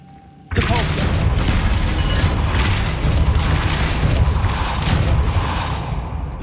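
Depulso force spell cast in the video game Hogwarts Legacy: a sudden loud whooshing blast with a booming low rumble that holds steady for several seconds before easing slightly.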